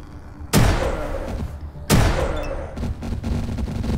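Two loud, sharp gunshots in the post-apocalyptic role-playing game Atom RPG, about a second and a half apart, each with a booming decay, followed by lighter thuds and clatter.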